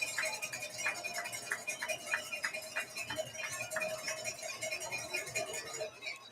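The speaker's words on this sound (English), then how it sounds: "Cowbells ringing." Cowbells clang in a quick, steady rhythm of repeated strikes at a high school football game between DGN and Wheaton Warrenville South during a kickoff, ringing continuously over a broad crowd background.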